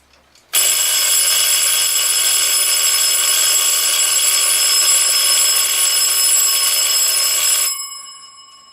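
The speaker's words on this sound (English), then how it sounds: "set the bells off, or the alarm off." Forestville mechanical alarm clock, freshly repaired with its bells adjusted, rings one loud continuous metallic bell clatter for about seven seconds before winding down and stopping.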